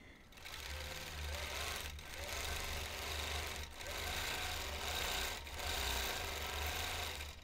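A vintage sewing machine quilts a feather pattern around rounded corners, a loud, steady motor drone with rhythmic needle chatter that dips briefly every couple of seconds as the stitching pauses.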